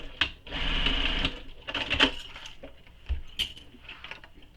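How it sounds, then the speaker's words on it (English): A sewing machine stitches through the bulky exterior of a KMGhandmade Oasis backpack, running in two bursts, a long steady whir then a shorter one, with small clicks and handling noises between. "when I'm sewing it so that it's against the bed of my machine"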